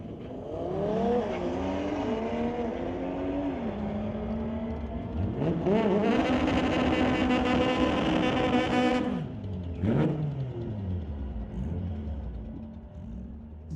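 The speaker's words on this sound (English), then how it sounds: "Audi BMW battle coming up next here on the Titanium Strip at Mission Raceway." Audi and BMW street cars drag racing down the strip at Mission Raceway, engines revving hard through rising gear shifts with a loud pass near the middle, plus a brief second surge near the end.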